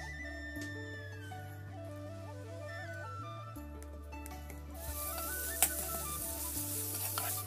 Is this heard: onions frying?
yes